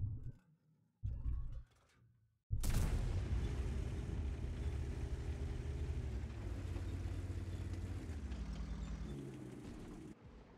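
In a tank video game, an M53/M55 artillery vehicle fires: a sudden heavy cannon blast erupts after a couple of short engine bursts, followed by a long rumbling roar that slowly fades.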